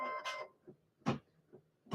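An embroidery machine stitching out a design on a shirt sample, giving short mechanical bursts with pauses between them, close and moderately loud.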